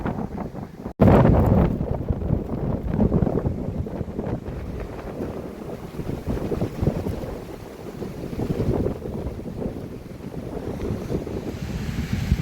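Strong wind at North Dam on Lake Gaston buffets the microphone in a steady, rough roar for the whole stretch, opening with a sharp gust-like thump and then rumbling on with water lapping underneath.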